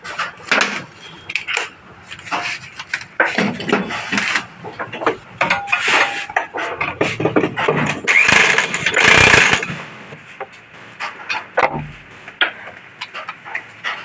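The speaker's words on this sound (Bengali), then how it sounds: "তো আমরা একটু মেশিন দিয়ে একটু নাট টাইট করে নেবো" A power tool tightens a nut on a Bajaj Discover motorcycle, giving loud, bursty whirring and rattling pulses with metallic clinks and scraping in a workshop, stopping and starting irregularly.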